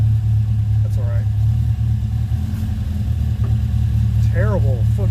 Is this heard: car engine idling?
yes